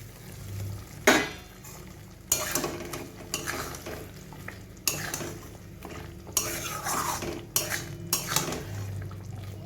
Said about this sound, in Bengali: আমি এবার এর মধ্যে পটলগুলো দিয়ে দেবো।